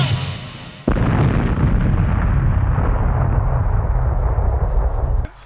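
A film explosion as primer cord detonates, set off by a robot's electric discharge: a sudden loud boom that gives way to a long, dense roar of blast and debris lasting several seconds, then cuts off abruptly.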